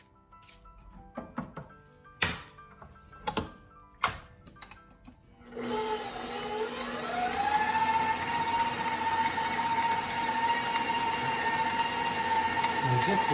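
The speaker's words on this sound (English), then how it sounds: "just let the KitchenAid do the work" KitchenAid stand mixer kneading naan dough: a few sharp scraping knocks first, then the motor starts up and holds a loud, steady whirring hum with rising pitch as it works the dough.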